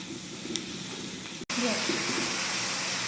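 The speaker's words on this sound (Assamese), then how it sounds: "এয়া পেটুখিনি ভাজি আছোঁ" Fish belly coated in spice paste and turmeric fries in hot oil with a continuous, close sizzling hiss, briefly cut off partway through, and faint speech underneath.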